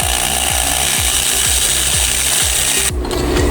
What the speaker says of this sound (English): So we're gonna drill a pilot hole.